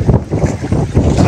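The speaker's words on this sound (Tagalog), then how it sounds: "may bangkang parating" A motor boat arrives on a lake during traditional fishing, its low rumble mixed with heavy wind buffeting close to the microphone.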